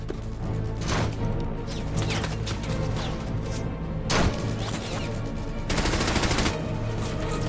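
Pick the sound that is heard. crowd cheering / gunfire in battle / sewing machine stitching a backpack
gunfire in battle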